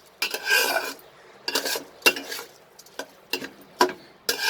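Rice and dal mixture sautéed with masala in a pan for moong dal khichdi, giving repeated scraping, stirring rasps in irregular bursts, close and moderately loud, with no talking.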